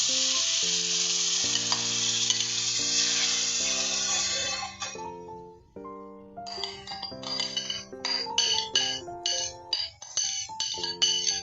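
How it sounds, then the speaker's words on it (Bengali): Spinach paste for palak paneer being sautéed with spices, a steady sizzle under background music, then choppy stirring and scraping sounds as the music continues. "কাজেই এটাকে আমি এবারে ভালো করে কষবো মশলার সাথে।"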